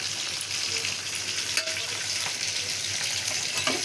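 A fish fries in a pan with a dense, even, close sizzle that holds steady throughout, with occasional faint crackles and no talking.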